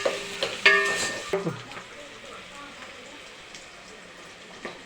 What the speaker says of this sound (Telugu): ఇవి దోరగా బాగా వేయించుకోవాలి.